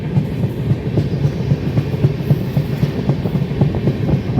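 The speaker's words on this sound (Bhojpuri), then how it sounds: "ट्रेन के जौन मीठ आवाज होला जो सदियों से चलत आ रहा बा" A passenger train on the Ara to Mumbai route rolling along the rails, heard from inside with a loud, steady rumble and a regular clickety-clack beat of wheels over rail joints throughout.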